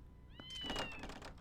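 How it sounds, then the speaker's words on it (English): Cats meow in a nighttime house in Zelda: Twilight Princess HD, giving one clear rising-and-falling mew over a faint thump and soft background clatter. "Oh, look at the kitties."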